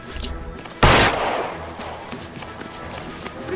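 A burst of gunfire in the L.A. Noire video game, a sharp loud volley that then rolls into a sustained rattle of shots layered over a dense game soundscape.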